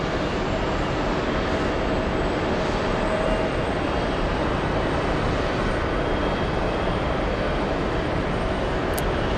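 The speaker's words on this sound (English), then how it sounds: "this American heavy takes off" American Airlines flight 66, a heavy jet bound for Barcelona, takes off at JFK as a steady, broad engine roar that fills the scene at constant loudness throughout, with no voices.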